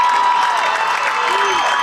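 A high school football crowd at Campbell Field, Yorkville vs Sycamore, roars and cheers in a continuous, loud, sustained wash of voices throughout.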